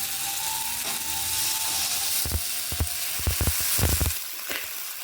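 Broth poured into a hot pan of dhokar dalna raises a loud, continuous sizzle, with a run of sharp spatters and crackles partway through before it settles.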